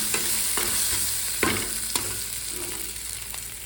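Panch phoron spices and ginger sizzle steadily in a hot pan, a close, continuous frying hiss broken by a few sharp stirring clinks and scrapes.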